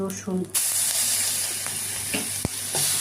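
Cumin, bay leaf and dried chilies hit hot oil with a sudden loud hiss that settles into a steady sizzle, close by, with a few clinks and a brief voice at the very start.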